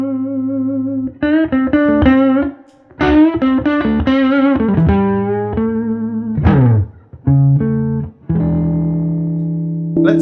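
An electric guitar played through a DOD pedal into a 64 Custom hand-wired Fender Princeton amp, with distorted sustained chords and single notes in phrases broken by short pauses, loud and close with no talking.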